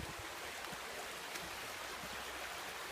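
Broad steady rush of a river flowing over boggy, crumbly ground, a continuous mid-level wash of water with no voices.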